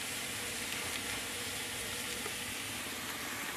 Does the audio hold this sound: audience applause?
no